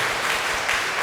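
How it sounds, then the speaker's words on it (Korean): Church congregation applauding together during a service, a steady dense wash of clapping throughout this short moment with no talk over it. "함께 박수 주시겠습니다."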